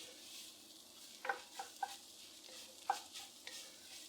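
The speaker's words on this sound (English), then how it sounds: "Now it only takes a good minute and a half to cook this tomato paste right out." Tomato paste cooks in a pot with turkey and peppers while a spoon stirs it, giving a soft, low sizzle broken by a few distinct scraping knocks against the pot, fairly quiet and close.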